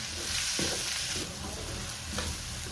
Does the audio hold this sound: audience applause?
no